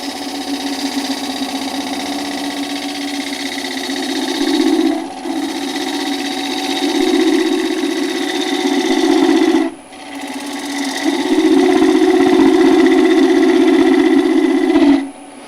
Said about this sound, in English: this is the bowl gouge